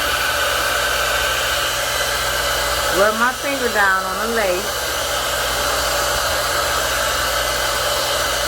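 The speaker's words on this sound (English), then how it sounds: "I'm gonna take my blow dryer on heat again" Handheld blow dryer on its heat setting, drying glue on a lace front wig over a stocking cap: a steady, loud broadband whoosh that runs the whole time, with someone talking briefly in the middle.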